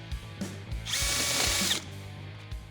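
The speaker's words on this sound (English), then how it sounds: "get the holes drilled for our bolts." A power drill bores bolt holes through a Nissan Frontier truck door, a loud whining grind building and holding for about a second amid clattering tool handling nearby.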